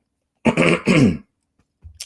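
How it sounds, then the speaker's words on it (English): A man clears his throat twice in a gruff, rasping burst, followed by a brief quiet grunt. "Clear my throat."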